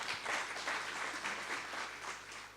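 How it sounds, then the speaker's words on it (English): Audience at a women's summit and awards welcome applauding, a fairly faint, distant patter of many hands with slight swells, steady across the whole stretch. "I think a round of applause for that."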